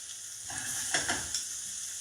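Butter melts into a hot steak pan with a little leftover oil, making a faint, steady hiss that swells briefly with a few soft pops and crackles, heard alone without talking.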